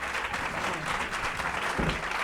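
An audience at a tarot congress claps for a speaker being introduced, producing steady, even applause that is dense and continuous through the short stretch, with no one speaking over it.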